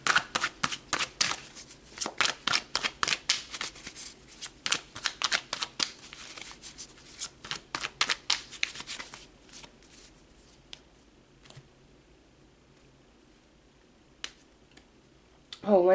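Tarot cards are shuffled close by in a quick run of crisp riffling flicks that thins into scattered taps and then falls quiet, with a voice faintly at the end.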